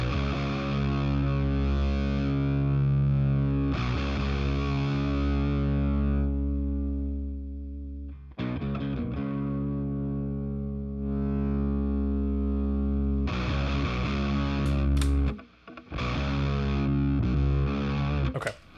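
Heavily distorted, sustained guitar tones run through a Beetronics Octahive effects pedal, thick and loud, with long held notes broken by short gaps and stabs, no voice present.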